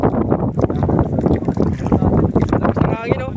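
Strong wind buffets a small fishing boat at sea, a loud gusting roar with rough microphone rumble throughout, and voices faintly mixed into the noise.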